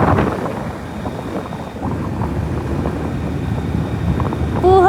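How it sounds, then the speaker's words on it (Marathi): Strong wind blows steadily in the high, cold Spiti Valley of the Himalayas, a loud continuous roar and buffeting rush across the whole stretch with no voices. "आणि ना खूप वारा लागतो, जोराचा वारा सुरू आहे."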